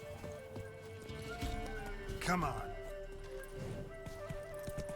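Horse hooves clip-clop along steadily in The Witcher 3, fairly faint beneath game ambience, with a brief whinny in the middle and someone speaking briefly.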